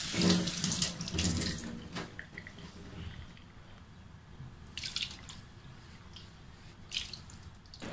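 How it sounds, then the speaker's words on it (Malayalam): Tap water runs and splashes into a sink while a cutting board is rinsed after steel-scrubber scouring, loud bursts at the start, then a softer steady trickle with drips and renewed gushes near the end; no talking. "നീ കുറച്ച് വെള്ളം ഒഴിച്ചു കൊടുത്തിട്ട് ആ നമ്മൾ തേച്ച അഴുക്കൊക്കെ കൊണ്ട് കളയുക"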